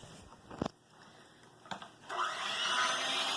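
Electric mixer beating peanut butter and jelly cookie dough in a bowl, a few knocks and bumps first, then a steady whirring motor that starts partway through and keeps running.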